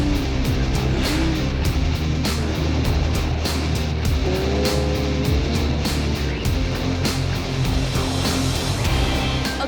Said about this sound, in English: there's a Porsche whipping around on this track behind us